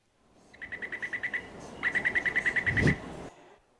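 A Taipei MRT chime built on a 2000 hertz tone: two quick runs of about eight to ten evenly spaced, bright beeps, clear and close, with a brief low thump near the end and no talking.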